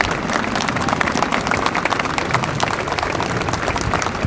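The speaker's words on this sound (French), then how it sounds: "Je vous demande de les applaudir très fort." An outdoor crowd applauds parachutists after their landing, a loud, dense and continuous burst of many hands clapping that lasts throughout, with faint crowd murmur beneath.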